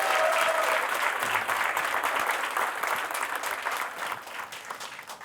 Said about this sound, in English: Can we have a big round of applause for Naukri.com?